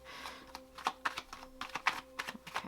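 Tarot cards are shuffled and handled up close: crisp, irregular taps and flicks of card stock in quick succession, soft but very near, with no talk.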